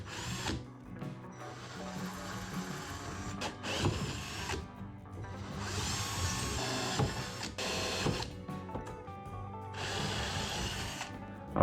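Drilling 4mm pilot holes through a metal kayak trolling motor bracket on a drill press with a 3D printed guide, several bursts of whirring, grinding bit noise separated by short pauses.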